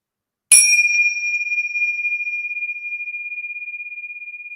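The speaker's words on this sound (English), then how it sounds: "We'll ring our bells to end class." A single yoga bell is struck once to end a class, ringing out with a bright metallic ding that sustains as a long, pulsing, slowly fading tone.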